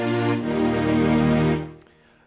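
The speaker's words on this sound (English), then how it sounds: "this is the first string sound you hear" A Nord Piano 5 string ensemble patch holds a single rich chord that swells and sustains, then fades out over about two seconds.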